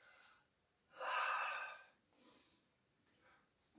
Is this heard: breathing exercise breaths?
yes